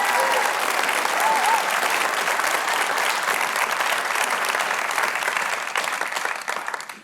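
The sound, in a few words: audience applause at keynote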